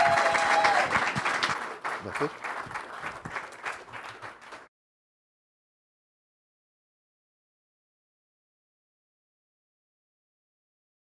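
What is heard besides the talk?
audience applause at a city council meeting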